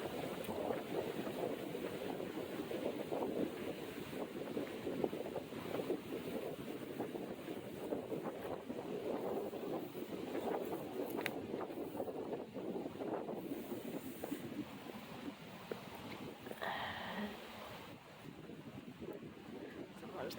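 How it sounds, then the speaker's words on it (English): Steady, loud wind buffets the microphone outdoors for the whole stretch, a continuous low roar near the historic Cornwall cold blast furnace site, easing slightly toward the end. "it's really windy out here."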